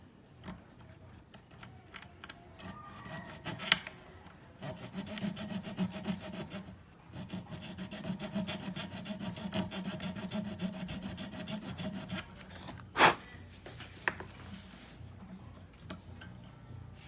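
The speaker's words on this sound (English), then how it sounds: "I'll file the top of the nut down so that the strings are sitting in the nut properly" A file works the top of the nut on a Fender Stratocaster during a jumbo fret job, giving quiet repeated rasping strokes in close bursts with brief pauses and a few sharp ticks.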